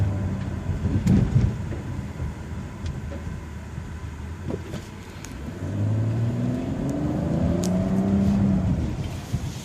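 A 2015 BMW X4's engine drones close by, easing off briefly before rising again as the all-wheel-drive SUV accelerates on a test drive, with no voices.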